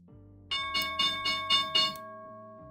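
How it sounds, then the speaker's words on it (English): A bright electric stock market bell rings in a rapid series of about six close strikes, loud and clear, then cuts off leaving a faint hum. "that bell that you heard is the market"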